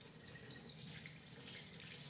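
Running tap water rinses Angel Juicer parts in a sink, a faint steady splashing hiss with light irregular patters, close by and without voices.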